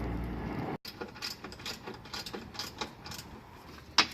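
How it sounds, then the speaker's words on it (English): A ratchet tightens bolts on a Jeep bumper in a series of quiet, uneven clicking strokes after a brief pause. A small sharp metallic clink sounds near the end, and there is no talking. "I'll go ahead and put the bolts on"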